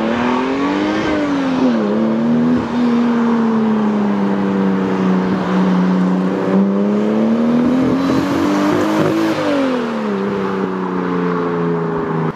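A car's exhaust growls loudly and continuously as the engine revs, pitch rising and falling through several sweeps, close and alone with no voices.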